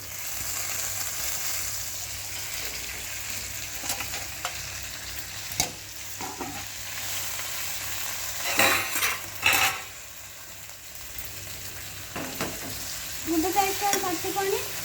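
Gongura sesame chutney is stirred in a hot pan with a spoon, giving scraping strokes over a steady low sizzle, with a few sharper metallic knocks against the vessel and a louder burst of stirring near the end.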